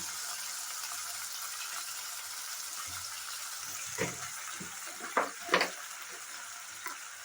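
Spice paste, turmeric and water cook in a pan for a fish-head dish with a soft, continuous sizzle, then a few louder scraping stirs and bubbling bursts toward the end.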